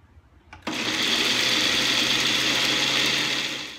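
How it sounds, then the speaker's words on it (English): Blender running on puree, churning honeydew melon seed pulp: after a faint click the motor kicks in abruptly with a steady, loud grinding whir that holds for about three seconds before easing slightly. "So I ran the blender for a total of 1 minute."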